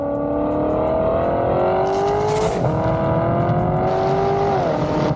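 A black Corvette engine revving hard and accelerating, a loud steady whine rising in pitch, dipping briefly at a gear change and then climbing again, close and continuous with no voices.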